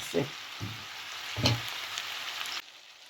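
Meat stewing with onion and carrot in a pan gives a faint, soft sizzle with a few brief stirring knocks, then cuts off near the end as the burner is switched off.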